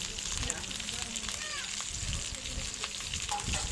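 Hilsa fish frying in a pan, a steady close sizzle and crackle of hot oil running continuously throughout with faint clinks.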